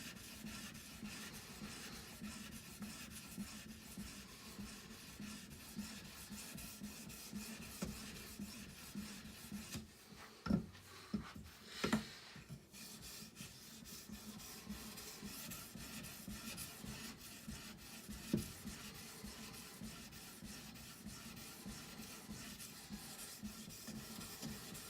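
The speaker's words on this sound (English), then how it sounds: "At this 1100 grit, I'm going to start developing a polish on the blade." Folding hunting knife blade being sharpened on an Edge Pro with an 1100 grit stone, a continuous soft rasping rub of stone on steel, with a brief pause and a few louder scrapes midway.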